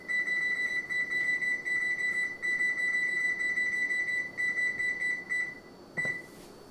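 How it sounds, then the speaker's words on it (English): A kitchen timer emits a rapid, steady, high-pitched electronic beeping that runs continuously for several seconds, nearby and clear, then cuts off with a brief click at the end. "Turn the timer on."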